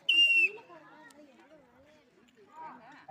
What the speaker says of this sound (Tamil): யார் விசில் அடிக்கிறார்